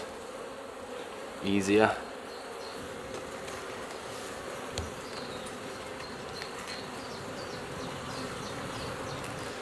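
Honey bees at an open hive with drone comb, a continuous low buzzing swarm at close range, broken early by a short louder clunk of handling and a few quiet spoken words.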